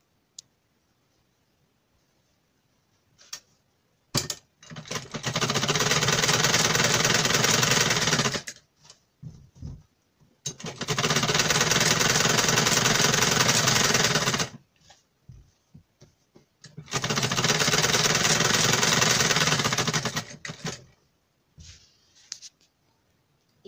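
A sewing machine stitches a kurti neck in three loud, steady runs of rapid mechanical chatter, each a few seconds long, separated by quiet pauses with small clicks and handling sounds.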